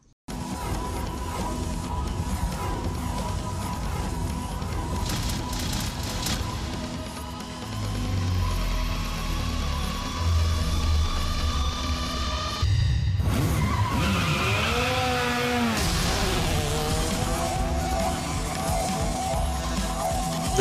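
Racing cars in Gran Turismo roar steadily with engine drone, then tires skid and squeal loudly midway as the engines rise and fall, all without voices.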